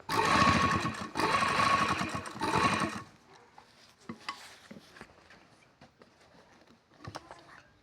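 A sewing machine stitches narrow gota lace trim onto a boutique suit design, running fast and loud for about three seconds before stopping, followed by faint handling clicks and rustles.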